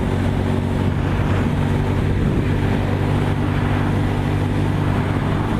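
A 23-year-old Castrol Honda SP1 motorcycle ridden at an easy cruise, its steady engine drone blended with heavy wind rush, loud and continuous without a break, with no voices over it.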